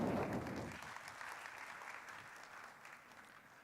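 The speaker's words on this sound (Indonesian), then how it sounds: "Boleh minta tepuk tangannya?" An audience at the Reno13 phone launch event claps loudly, the applause starting strong and then tapering into a steadier, softer patter.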